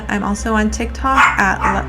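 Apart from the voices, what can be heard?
dog barking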